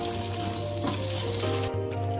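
Whole spices with mint and coriander leaves sizzling in hot oil as they are stirred, a steady close frying hiss with a low hum and occasional scraping stir sounds.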